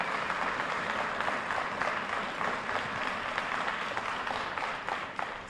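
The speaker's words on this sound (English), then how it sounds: "Give them a round of applause to thank them." A crowd at a portrait unveiling for former Los Angeles mayor Eric Garcetti applauds steadily, a dense wash of clapping from many hands that holds at an even level for several seconds with no voices.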